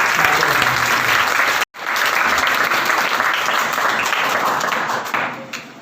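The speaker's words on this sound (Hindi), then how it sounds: "जोरदार तालियों के साथ।" Loud, dense audience applause at a school farewell send-off programme, sustained clapping with a brief sudden cut before resuming and tapering toward the end.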